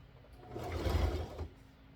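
A small sewing machine starts up and stitches in one short burst, its low motor hum rising, holding about a second, then easing off, close and fairly quiet, no talk.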